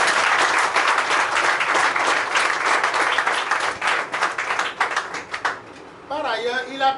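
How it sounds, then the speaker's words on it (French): Applause at a farewell reception for volunteers, dense clapping that thins into scattered claps before a voice begins speaking at the end. "je vous prie de l'applaudir"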